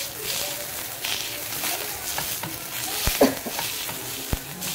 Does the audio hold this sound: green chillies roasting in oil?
yes